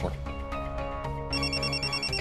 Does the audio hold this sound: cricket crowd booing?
no